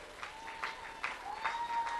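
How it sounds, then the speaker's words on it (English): A Fall Festival parade crowd claps for the Ohio Valley Search and Rescue unit, steady moderate applause with a few swelling bursts, heard from some distance outdoors. "A huge Fall Festival round of applause for the Ohio Valley Search and Rescue"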